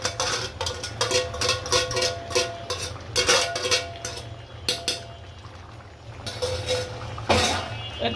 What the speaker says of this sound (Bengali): এখন হচ্ছে একটু নেড়ে চেড়ে দিচ্ছি।